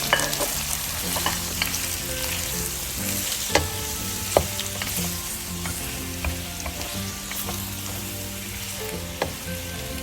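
Chorizo frying in a pan for pasta gives a steady sizzle with stirring scrapes and a few sharp utensil knocks, close and continuous, with no talking.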